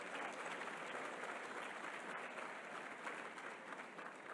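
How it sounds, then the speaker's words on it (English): A gala audience applauding, a steady wash of many hands clapping that holds evenly throughout, fairly distant and soft with a faint murmur of the crowd. "Give them a round of applause as well."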